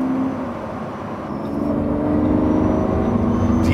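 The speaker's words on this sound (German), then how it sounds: "Ich bin schon nur ganz leicht am Beschleunigen und was ich hier an Kräften höre, was ich an Sound bekomme." A Lamborghini Countach V12 accelerating gently on the Autobahn: a steady close engine drone with a low rumbling hum that gradually grows louder, heard from inside the car.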